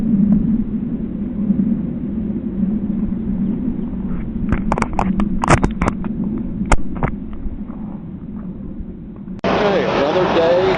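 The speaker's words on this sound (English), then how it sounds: "That's an airplane." Airplane passing overhead, a steady low engine drone that holds for the whole stretch, with scattered clicks and knocks nearby and a burst of broadband noise near the end.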